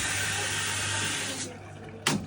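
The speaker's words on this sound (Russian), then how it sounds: "Набор воды пошел." Hotpoint Ariston washing machine drawing in water: a steady rushing hiss of inflow runs throughout at moderate level, dipping briefly before a short louder gush near the end.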